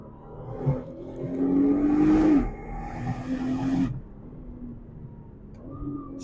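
A Nissan R35 GT-R engine revs up in a rising whine, drops off, then settles into a lower steady drone while driving, with a brief later swell, heard from inside at moderate loudness.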